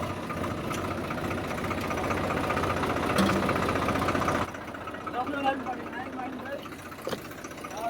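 A tractor engine idles with a steady, rumbling chug close by, dropping to a quieter hum halfway through as brief voices come in.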